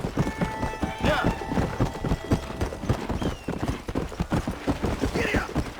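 Horse hooves galloping in Red Dead Redemption, a rapid continuous clip-clop rhythm that stays loud and close throughout, with occasional neighing and a voice urging the horse on.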